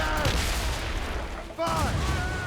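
Ship cannons firing in Assassin's Creed Rogue, two heavy booming volleys with rumbling tails, the second following a brief lull, with voices shouting over the battle.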